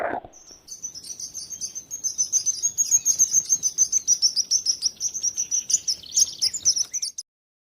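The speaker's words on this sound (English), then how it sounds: "sparrow" A sparrow chirps in quick, bright repeated bursts that run almost without pause for several seconds, close and clear over a faint background, with no other sounds.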